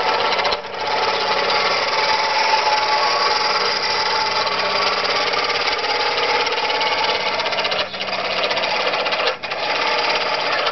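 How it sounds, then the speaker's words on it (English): A forty-odd-year-old model steam boat engine from Greymouth, New Zealand, runs with a dense, rapid, steady chatter, close and loud, with a couple of brief dips in its rhythm. "this is about a 40 something year old engine made by a guy called Auld from Greymouth in New Zealand"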